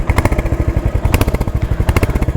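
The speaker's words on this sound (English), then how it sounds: "Here is the exhaust actually." A Royal Enfield Hunter 350 motorcycle exhaust idles close up, giving a loud, steady, thumping single-cylinder rumble with evenly spaced pulses and a slight rev in the middle, heard alone.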